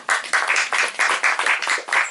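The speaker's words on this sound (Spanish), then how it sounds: "un aplauso para todos nosotros y por Kafka" A small audience at a literary gathering on Kafka applauds in a series of clear, rhythmic bursts of clapping that rise and fall over about two seconds, with no talking heard.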